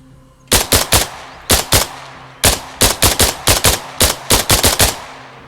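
Loud, close gunfire in the video game ARMA Reforger: quick bursts of sharp rifle shots in clusters of two to four, separated by short pauses, about sixteen shots in all.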